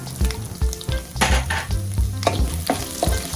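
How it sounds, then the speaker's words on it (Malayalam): Chopped onion and garlic hitting hot oil with curry leaves and dried red chillies for a Kerala sadya koottucurry, a loud close sizzle and crackle with spoon scrapes and stirring bumps against the pan. "കറിവേപ്പിലയും ഉണക്കമുളകും മൂത്ത് കഴിയുമ്പോൾ നമുക്ക് അതിലോട്ട് അരിഞ്ഞു വെച്ചിരിക്കുന്ന ഉള്ളിയും വെളുത്തുള്ളിയും ഇട്ട് കൊടുക്കാം"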